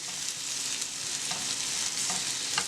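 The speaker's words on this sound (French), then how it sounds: "On fait revenir tout ça et on laisse cuire jusqu'à ce que ça devienne doré" Courgettes sautéing in a pan produce a steady, close frying hiss with a few faint stirring scrapes, and no voices.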